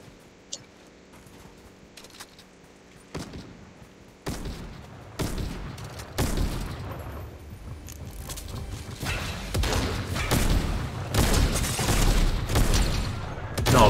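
Gunfire in a Fortnite match, scattered sharp shots at first, then denser bursts of rapid firing and impacts that grow louder and more frequent toward the end, with little talking.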